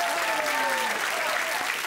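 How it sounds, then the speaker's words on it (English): Studio audience of a supermarket game show applauds contestants, a brief dense burst of clapping with a voice speaking over it. "Give them a round of applause."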